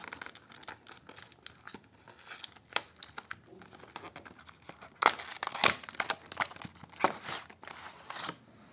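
Packaging around a black Sunix PB39 12,000mAh powerbank crinkles and crackles as it is unwrapped, in quiet irregular rustles that grow louder and busier halfway through.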